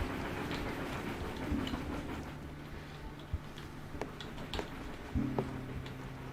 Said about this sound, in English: You can come over here and hear the train.